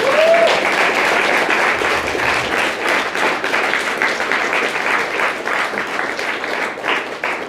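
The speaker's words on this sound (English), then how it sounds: "Let's give Jason a round of applause" An audience at a binary options trading event bursts into loud, sustained applause for a speaker, many hands clapping steadily and evenly throughout.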